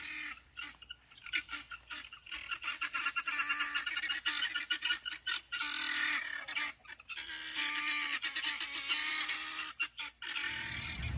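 Backyard chickens clucking and squawking in a busy, overlapping chorus, fairly close and loud with irregular bursts that fall away near the end.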